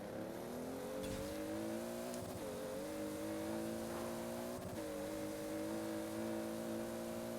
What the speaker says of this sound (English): It sounds like the 2JZ diesel. It's definitely a 2J.